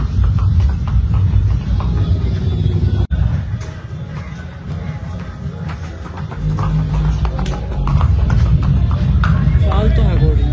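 A mare walks with a rhythmic clip-clop of hooves at a farm, close and loud, mixed with steady engine-like rumble while someone talks over it throughout.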